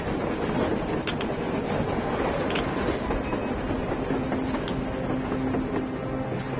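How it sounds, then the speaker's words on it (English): Steady, rumbling mechanical noise of a train rolling by in the video game Metro Exodus, continuous and fairly close, with faint clanks and a low whine mixed into the roar. "A train! A damn train on the side!"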